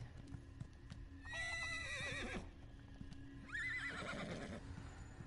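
Horse mount from the Egg Hunter's Easter collection in the game Elder Scrolls Online: two clear whinnies a couple of seconds apart, with soft clip-clop hoofbeats running steadily beneath.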